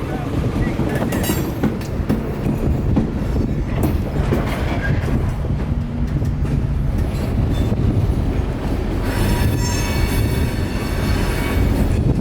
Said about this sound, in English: the moving train about to cross the road